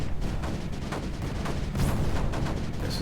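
Cannons and mortars fire in the strategy video game Creeper World 4, giving a steady wash of muffled booms and thuds over a continuous rumbling background, with no talk.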